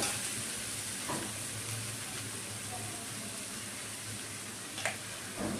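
Soya granule chorchori being stirred in a pan, a steady broadband sizzle running throughout, with a few soft spoon scrapes near the start and end and a louder clink at the close.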